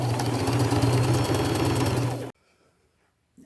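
A sewing machine stitches elastic shirring into clothing, running as a steady, loud mechanical hum with rapid needle chatter for about two seconds before stopping abruptly into near silence.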